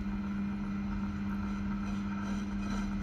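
A Proxxon mini lathe on its lowest belt speed, parting 304 stainless steel, gives a steady, loud motor hum with a constant low drone and faint scraping underneath, with no pauses.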